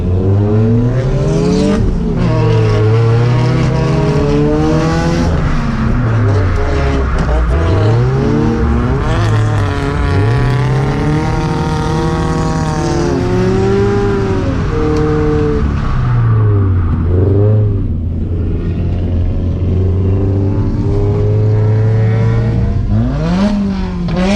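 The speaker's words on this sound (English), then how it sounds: "we're back tandeming with Mr. Steven" A Scion FR-S drift car's engine revs and wails continuously through tandem drifting, its pitch sweeping up and down with throttle, loud and close; the engine note dips briefly near the end before climbing again.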